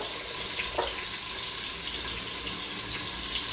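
Onions and tomatoes sauté in a pan with a steady, dense hiss and sizzle, a continuous even wash of frying noise with faint scattered crackles throughout.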